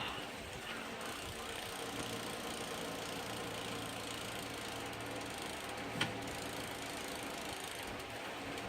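A bike trainer set up for Zwift spins with a steady mechanical whir as its pedal is turned by hand, a constant close hum with a faint ticking underneath and one brief click midway.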